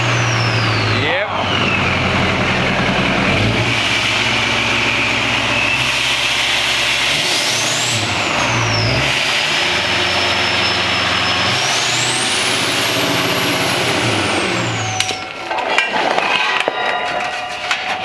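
L5P Duramax diesel pickup engine fires up, settles into a loud close idle, then revs repeatedly in rising and falling sweeps before dropping off, with brief talk near the end.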